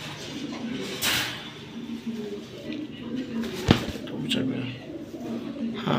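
Pigeons coo in a low, rolling murmur behind someone speaking, with a couple of sharp knocks and a sliding clatter from a coop door or cage.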